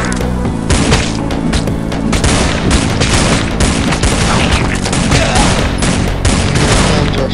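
Shotgun fire in the Dead Ahead: Zombie Warfare video game: dense, loud, nonstop volleys of blasts overlap in a steady barrage with no pauses.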